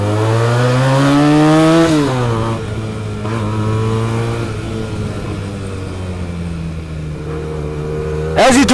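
A Benelli TNT 300 two-cylinder motorcycle with an IXIL exhaust revs loudly up to a peak, drops back and holds a steady, throaty idle, then gives a sharp blip at the end.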